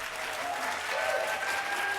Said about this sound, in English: Clap again, all of you together.